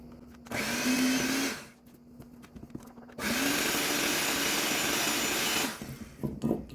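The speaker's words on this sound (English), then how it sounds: "We're going to be using the hand mixer" A handheld electric mixer on low speed beats powdered sugar in a bowl, with two steady whirring runs separated by a short pause, plus a brief restart near the end.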